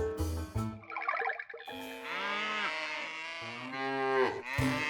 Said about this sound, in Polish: Nadchodziło więcej krów.